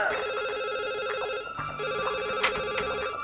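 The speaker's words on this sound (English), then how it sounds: "Answer the phone." A telephone rings in The Sims 1 video game, a rapid warbling electronic trill repeated in two bursts with a short gap between, accompanied by soft background game music and no speech.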